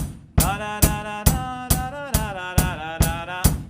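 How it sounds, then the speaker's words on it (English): Snare drum and hi-hat hits land on every beat in a steady pulse, each crack ringing with a bright, tonal decay beneath a sustained musical background. "So every beat on the hi-hat and the snare drum or whatever drum you have."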